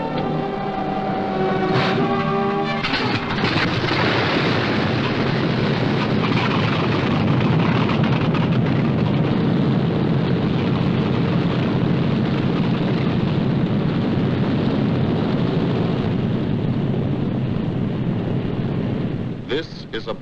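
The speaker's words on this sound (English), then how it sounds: "Only the roaring engine sound of the bombers pounding through the quiet English countryside." Four-engine WWII bombers such as the Memphis Belle drone over the quiet English countryside: a heavy, continuous, loud roar that swells in after a brief opening and holds steady, rumbling without a break.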